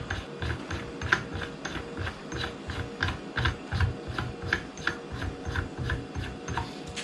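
A blast forwarding device being screwed by hand onto a gun's muzzle: a steady run of small rhythmic ticking, ratcheting thread clicks and metal rubbing, close and fairly quiet, with no talking.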